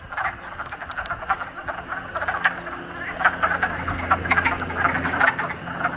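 Many frogs croak inside an old natural cement mine, a dense, continuous chorus of rapid overlapping calls echoing in the enclosed space, with no voices.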